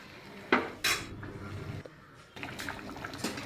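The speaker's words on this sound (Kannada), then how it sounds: "ಚೆನ್ನಾಗಿ ತಿರುಗಿಸಿ ಬಿಡ್ತೀನಿ" Metal spoon scraping and clinking against a cooking pot while avare bele pongal simmers, with two sharp clanks early on followed by softer repeated stirring scrapes close up.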